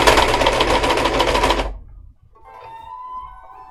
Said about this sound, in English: I'm cutting off maybe like an 1/8 inch of fabric with the blade of the serger itself.